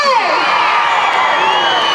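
A live audience at a comedy cultural program cheers and claps, sustained and loud, with a crowd roar filling the whole moment.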